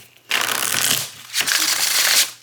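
Two crisp, papery riffles of a thin, flexible tarot deck being shuffled up close, each lasting about a second with a brief pause between.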